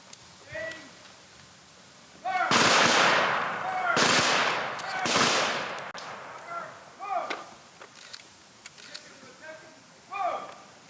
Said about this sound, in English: the 82nd Airborne will present a 21-gun salute